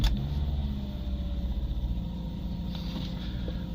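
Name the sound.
Subaru Liberty FB25 2.5 wagon engine starting and running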